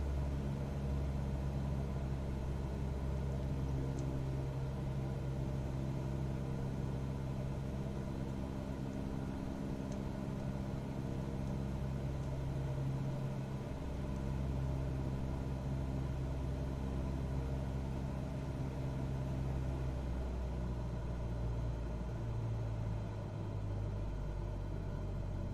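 Aircraft engine in Microsoft Flight Simulator throttled back for landing near Renton and Seattle, a steady low droning hum with a constant rumble that holds at an even level throughout, with no talking.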